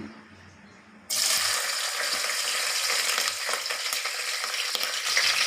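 Onions hit hot oil in a pot for mutton bagara curry, and a loud, steady sizzle bursts in and then continues densely and close up.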